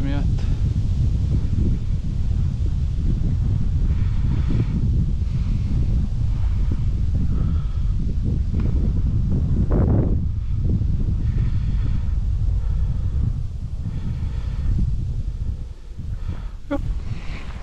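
Strong wind batters the microphone with a continuous low roar during lure fishing for zander, while someone talks over the gusts.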